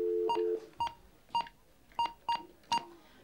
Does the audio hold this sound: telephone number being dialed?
yes